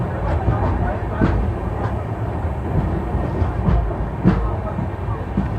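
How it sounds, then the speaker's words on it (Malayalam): Banaras Express train moving through fog, a steady close rumble of rolling wagons with faint periodic clacks from the rails, continuous throughout with a soft voice in the background. "മൂടൽമഞ്ഞിൻ്റെ ഇടയിലൂടെ പാഞ്ഞു പോകുന്ന ട്രെയിൻ"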